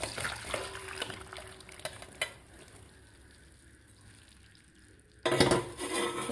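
Boiled soybean chunks are drained onto a strainer: soft clinks and wet handling, a quiet stretch, then a sudden splashing rush of water pouring through near the end.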